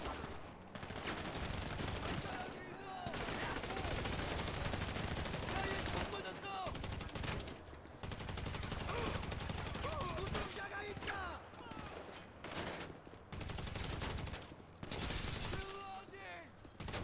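Heavy gunfire in a Grand Theft Auto V Online heist, with rapid automatic bursts and overlapping shots in dense runs broken by brief pauses, loud and close, while a voice shouts over the shooting.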